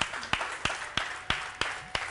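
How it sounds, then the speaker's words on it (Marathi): Audience applause for the winners of a large modak-making contest at a Mumbai event, heard as about seven sharp, evenly spaced claps, moderately loud and with no talking. "जोरदार टाळ्या त्यांच्यासाठी"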